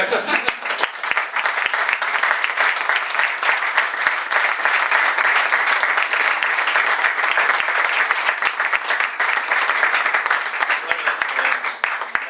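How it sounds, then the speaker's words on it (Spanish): An audience at a political talk breaks into sustained applause, dense steady clapping from many hands that fills the whole stretch at an even, loud level without letting up. "se merecen un aplauso"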